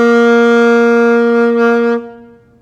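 A single sustained saxophone G, steady and strong with rich harmonics, held for about two seconds before being released and fading out, played alone.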